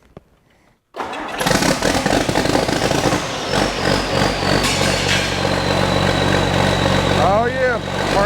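An engine running on only two of its cylinders fires up abruptly and keeps running loud and rough with an uneven, lumpy throb, close by; voices sound briefly near the end.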